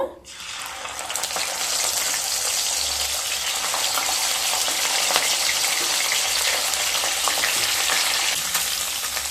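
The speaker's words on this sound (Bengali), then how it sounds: "তেলটা গরম হয়ে গেছে, মাছগুলোকে ভেজে নেব।" Lightly salted pieces of katla fish fry in hot white oil, a loud, dense, continuous sizzle and crackle that holds steady throughout with no talking.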